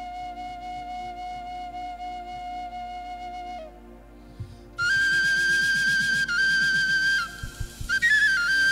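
Flute played during a lively church worship service in Ghana, sustained whistle-like melody notes held and shifting in pitch, with rhythmic accompaniment underneath and a brighter, louder passage in the second half.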